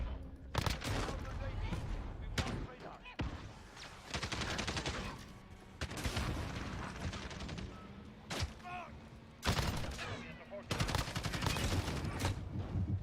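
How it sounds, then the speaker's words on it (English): Shotgun blasts in the video game Modern Warfare on the small Shipment map, repeated loud booming shots in rapid clusters with brief gaps, a player's voice talking now and then in between. "they're sliding around with fire shotguns"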